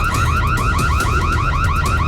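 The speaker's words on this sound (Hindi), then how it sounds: "अलार्म बच गया, अब हम पकड़े जाएंगे।" A car alarm blares loud and close, a rapid warbling electronic siren cycling up and down in a steady, unbroken pattern with no voices over it.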